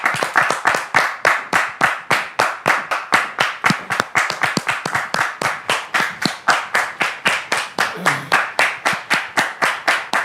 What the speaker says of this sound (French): Je voudrais vous demander de les recevoir avec vos applaudissements